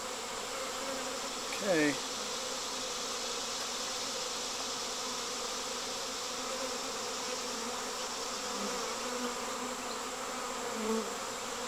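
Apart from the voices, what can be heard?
honeybee swarm buzzing at hive box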